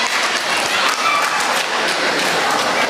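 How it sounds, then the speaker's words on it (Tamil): Loud audience applause fills a hall at a Tamil song-competition stage event, a dense, steady roar of clapping that runs without a break throughout. "உயர்ந்த கரகோஷங்கள்."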